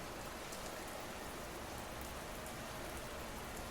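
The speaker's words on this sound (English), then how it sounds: "The rain kept falling as it always had." Steady rain falls on a street, a dense, even hiss of drops spread across the whole stretch with no voices and no breaks.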